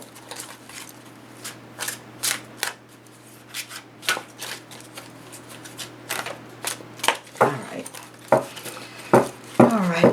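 A deck of tarot cards is shuffled in a long run of crisp, close riffles and flicks that grow denser toward the end, with a soft voice heard briefly underneath.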